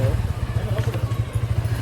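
A motorcycle engine putters with a steady, throbbing low rumble, close by and continuous.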